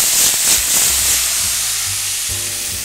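Tomato hitting hot garlic in a frying pan, a loud steady sizzle and hiss close up with faint stirring clatter underneath.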